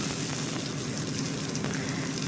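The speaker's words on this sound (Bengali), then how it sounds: "রসুনটাকে একটু ভেজে নেবো লাল করে।" Garlic cut into long slivers frying in a pan until browned, a steady, even sizzle running loud and continuous with no talking.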